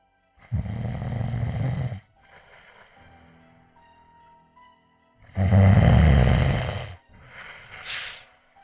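A voice imitates the wolf from Little Red Riding Hood snoring loudly: two long, rasping snores separated by quiet breathing pauses, close and intimate in a soft ASMR-style telling.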